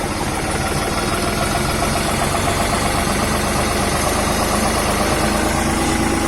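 A New Holland TT4 tractor engine runs loud and close as it pulls away, a steady heavy diesel rumble with throttle gently increased and no talking over it.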